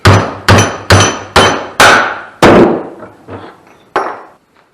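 Hammer blows land on trike body panel clips, about nine sharp metallic whacks at an uneven pace, each ringing briefly. The last few strikes are lighter, loud and close, with no talking.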